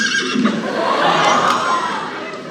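A horse whinnies in a drawn-out, wavering neigh, fairly loud and close, with a faint murmur of a crowd behind it during an amateur cowboy film screening.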